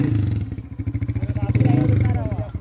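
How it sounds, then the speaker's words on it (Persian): A motorcycle engine putters close by in a fast, pulsing rhythm, rising slightly as it revs, while someone talks over it, at a spring festival in Chah Ab district, Takhar, Afghanistan. "موتورسیکل هم روشن میکنه"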